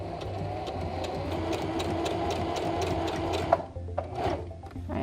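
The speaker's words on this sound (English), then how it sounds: "sewing machines usually have a reverse function, so in this case I'm going to hold it down and then keep sewing" A sewing machine stitching a fabric mask runs in a fast, steady mechanical whir with rapid needle clicks, close up, then stops briefly and restarts in short bursts near the end.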